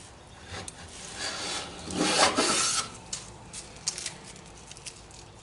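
Block plane shaving a wooden workpiece in several short, close rasping strokes, the loudest one near the middle, followed by a few lighter scrapes and taps.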